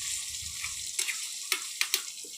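Chicken curry frying in a pan as it is stirred, a steady low sizzle broken by three or four sharp scraping clicks of the spoon against the pan.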